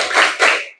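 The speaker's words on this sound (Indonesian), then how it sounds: "sama-sama kita tepuk sains." A group clapping the tepuk sains rhythm in a classroom training session, two loud, close bursts of hand claps in quick succession before cutting off.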